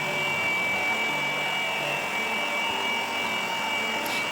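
An Asian Paints TruCare handheld electric air blower cleaning a sofa: a loud, steady, high-pitched motor whine and rushing airflow running continuously throughout, with no talking.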